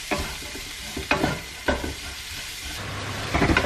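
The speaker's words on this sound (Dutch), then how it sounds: "En dan zo gewoon even lekker roer bakken." Steady sizzling of food stir-frying in a hot pan, with a few sharp scrapes and knocks of a utensil against the pan.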